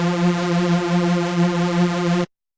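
Retro-style tone from the Serum synthesizer, with an LFO sweeping the wavetable position to give a gently pulsing, shifting timbre over a steady pitch, heard alone for about two seconds before cutting off sharply.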